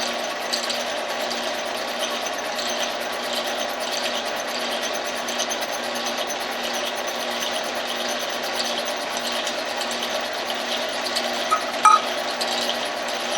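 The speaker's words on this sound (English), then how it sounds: "the cutting tool is just barely making contact now with the cylinder wall" A boring tool cuts along an engine cylinder wall, giving a steady mechanical whir with faint rhythmic chatter and a couple of small clicks toward the end.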